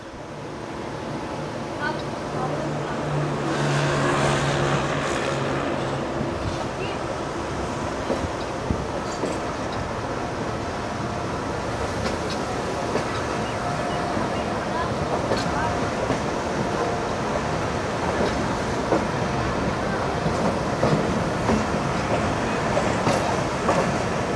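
A passenger train coach rolls toward a small station with a steady, loud rumble and faint wheel clatter that hold unbroken for over twenty seconds, while a voice talks in the carriage.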